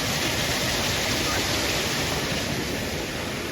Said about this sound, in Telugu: ఎన్ని కొండపై నుంచి వస్తుంది వాటర్.